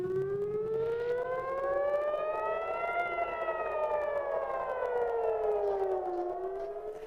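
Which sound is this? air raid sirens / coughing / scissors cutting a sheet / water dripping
air raid sirens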